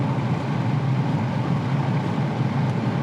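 A Skoda Kamiq engine running on two cylinders drones steadily at low revs, a loud, even rumble with no talking.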